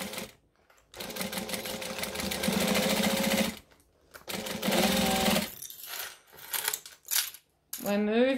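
A sewing machine stitching a bag in rapid mechanical bursts, running for a few seconds, pausing briefly, then running again, close and loud with short gaps for needle-down pivots.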